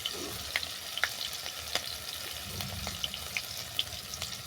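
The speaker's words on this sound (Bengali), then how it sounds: "অল্প করে হলুদ গুঁড়ো মশলাটাকে ভালো করে কষিয়ে নেবো" Ginger-garlic paste, onion, green chili paste, salt and turmeric frying in hot oil in a pan for an egg curry, a soft, steady sizzle with scattered light crackles and pops, fairly quiet throughout.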